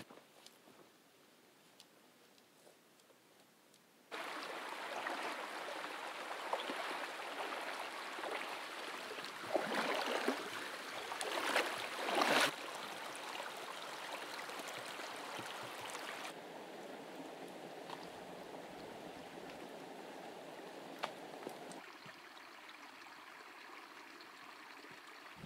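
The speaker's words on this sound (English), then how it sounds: "this is the last time I'm going to cross this creek here" A mountain creek in Nevada's Great Basin backcountry flows steadily near a hiking trail, a continuous close rush of water that swells louder after a quiet start and runs alone without voices.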